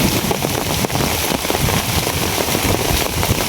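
Heavy rain lashing down in a windy storm, a loud, dense roar of drops with crackling patter on surfaces, steady and close throughout.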